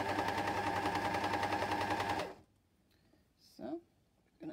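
An air overlock sewing machine stitches a sleeve cap with a steady, fast, loud mechanical whir for about two seconds, then stops, leaving quiet with brief speech.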